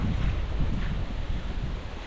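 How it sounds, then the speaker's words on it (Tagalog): Strong wind buffeting the microphone in a steady, heavy roar, with no other clear sounds. "Ang lakas ng hangin."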